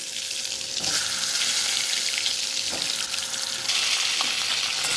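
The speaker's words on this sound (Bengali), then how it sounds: "এবার আমি পটলগুলো আস্তে আস্তে করে তেলের ভেতরে দিয়ে দেবো" Slices of pointed gourd (potol) sizzle in hot oil, a steady loud hiss with a few sharper crackles and bursts as pieces are added, no talking.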